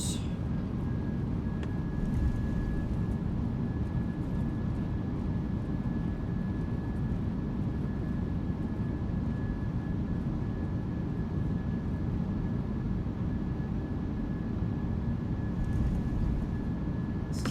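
Reverse thrust of a PMDG 737-800 after landing in the video game MSFS2024: a loud, steady broadband engine roar holds unbroken throughout, with a faint thin whine riding on top.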